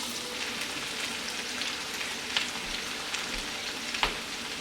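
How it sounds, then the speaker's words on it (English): Vegetables for a jalfrezi curry sauteing in a pan, a steady close sizzle with a few sharp clinks and scrapes of stirring, no talking. "Now at this point I'll just saute it and stir it and let it cook for a further 5 minutes."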